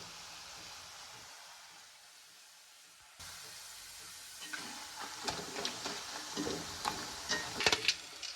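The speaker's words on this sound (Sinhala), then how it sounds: "යාළුවනේ තාම බැදෙන ගමන් තියෙන්නේ." Quiet hiss that picks up into active sizzling and bubbling of cassava frying in oil, with scattered crackles growing louder toward the end.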